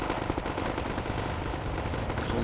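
Dense, continuous gunfire and explosive thuds from constant mortar fire in the war strategy game Wargame: AirLand Battle, a steady battlefield roar with no pauses across the whole stretch.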